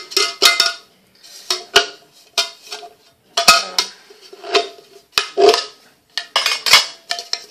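Metal parts of a DIY woodgas backpacking stove clank and rattle as they are nested into a pot and the lid goes back on, a string of close, bright clinks and knocks in irregular bursts.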